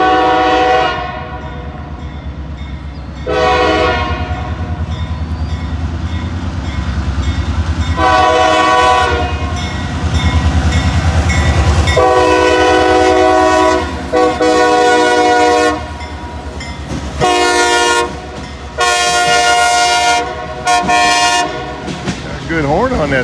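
A local freight train approaches with its horn, sounding several long, loud blasts over a rising rumble of engines and railcars, heard close by without talk.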